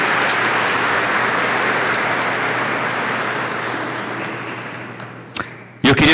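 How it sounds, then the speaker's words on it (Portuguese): Church congregation applauding the tithe ministry team at Sunday Mass: dense, steady clapping filling the hall, slowly thinning toward the end before a few sharper knocks close it out. "Uma salva de palmas."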